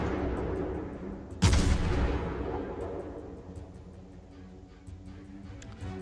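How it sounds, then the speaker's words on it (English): A single heavy naval gun salvo booms out from a cruiser in the World of Warships game, firing on the Pensacola; a sharp blast then a long rolling rumble that slowly fades under steady engine and sea ambience. "I missed all my shots on the Pensacola"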